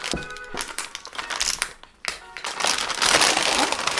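Crinkling and tearing of plastic packaging as a parcel holding desk diaries is ripped open, in bursts with a short pause before a louder, sustained rustle.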